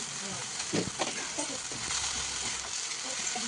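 Vegetable sautéing in a pan with crushed green chillies for a Maharashtrian bhaji, a dense close hiss of frying with a few soft stirring knocks over about three seconds.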